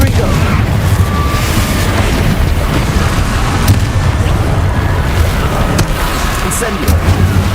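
Rumbling blasts and booming explosions from Confringo spells in the Hogwarts Legacy video game, a loud continuous low roar with scattered bursts and a shouted voice.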